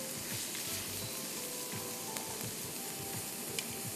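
Onions frying in a pan for prawn biryani give a steady, close sizzle, with soft scrapes from stirring and no one talking.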